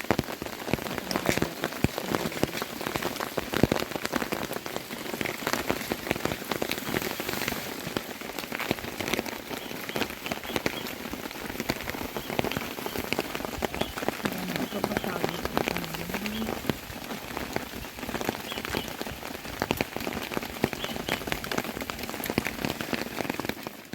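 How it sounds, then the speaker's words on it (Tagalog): Rain falls steadily on a forested mountain trail on Mt. Guiting-Guiting, Sibuyan, a dense even patter close by that lasts throughout, with voices talking faintly beneath it. "Maulan."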